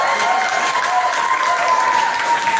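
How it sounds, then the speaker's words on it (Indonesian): An audience at a recruitment gathering breaks into steady, dense applause that holds at an even loudness throughout, with no individual claps standing out. "Tepuk tangan sekali lagi buat"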